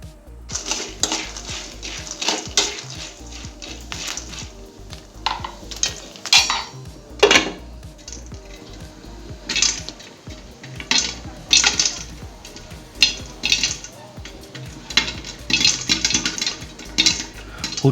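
Homemade popcorn kernels pop inside a covered pot on a low stove, a steady scatter of close sharp pops and rattling knocks against the metal going on throughout with no talking.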